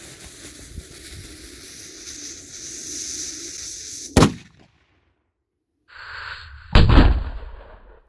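A gold Dum Bum 5G firecracker goes off in two loud, sharp blasts: a first crack after steady outdoor ambience, then a heavier boom with a rumbling tail after a short silence.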